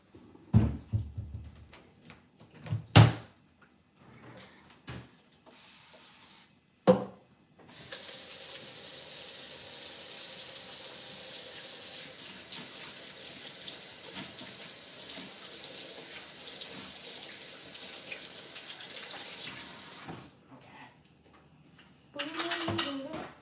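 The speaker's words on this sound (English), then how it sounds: "Let me wash my hands." Kitchen faucet runs steadily for about twelve seconds while hands are washed under it, preceded by a few clattering knocks and dish sounds, with a short bump after the water stops.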